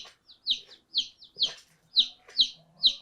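Chickens on a farm cluck in quick, sharp, bright bursts about every half second, close by and clear, with faint background murmuring.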